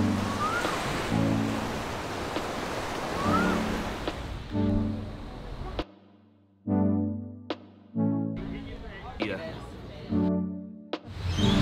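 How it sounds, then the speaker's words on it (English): Ocean surf rolls in at a beach near Cairns, Australia, in a continuous washing roar with wind buffeting the microphone, while a person talks intermittently over it. "This is the beach right off of the Doobougie boardwalk"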